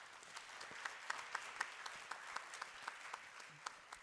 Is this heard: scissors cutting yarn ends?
no